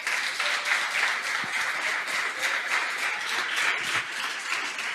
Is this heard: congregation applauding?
yes